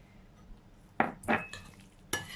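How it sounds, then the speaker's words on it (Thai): A spoon scrapes and knocks against a dish while microwaved tomatoes and eggs are stirred, giving a few sharp clinks and scrapes close by. "เราก็จะนำออกมาคนนะคะ อีกรอบนึงค่ะ"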